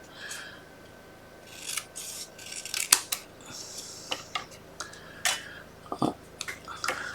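Scissors cut gold-embossed card with a series of close, crisp snips and rustles at uneven intervals over a quiet room hum.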